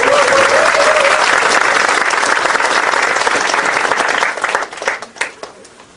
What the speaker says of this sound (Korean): 우리 큰 박수로 우리 노회찬 대표님 맞이하겠습니다.